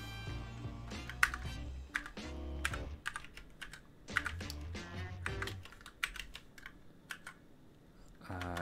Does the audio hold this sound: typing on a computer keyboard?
yes